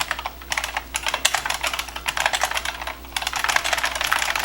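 Fast, continuous typing on a vintage 1985 IBM Model M keyboard, with loud, clacky buckling-spring keystrokes in dense bursts and a brief pause partway through.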